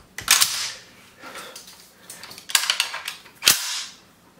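M1 Garand rifle of the kind used in the Korean War, fired outdoors: four sharp, loud reports spaced about a second apart, each with a crisp crack and short echoing tail.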